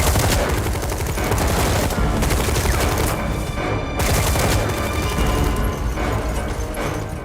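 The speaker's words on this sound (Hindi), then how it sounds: "उन्होंने विधायक की गाड़ी पर AK-47 से गोलियों की बौछार कर दी।" Sustained AK-47 rifle fire raking a legislator's vehicle in an armed ambush, a dense, continuous loud fusillade of rapid shots with no pauses throughout.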